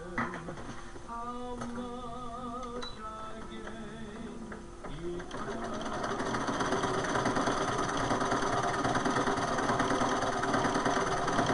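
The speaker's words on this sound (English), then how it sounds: "I'm going to do my overlock." An overlock sewing machine stitches a hospital gown for an 18-inch doll, starting with stop-start whirring and then settling into a loud, steady mechanical hum that runs to the end.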